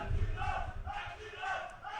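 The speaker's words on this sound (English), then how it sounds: "The crowd is going wild." An esports crowd roars and shouts at an ESL Benelux League finals match between Trust and Epsilon, a loud sustained wash of cheering voices swelling and dipping over two seconds.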